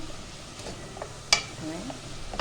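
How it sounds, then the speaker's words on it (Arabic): Onions frying in a pan with ground cumin, four onions, being stirred; a soft sizzle under a sharp clink of the spoon against the pan and light scraping, with a voice talking briefly. "وهقلب عشان البصلة تتحمر معايا."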